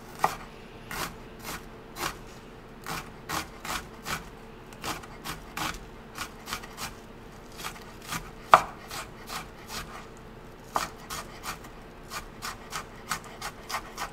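Onions being chopped on a board for hamburgers, a steady series of sharp knife strikes repeating close by at a quick, slightly uneven rhythm, with no talking.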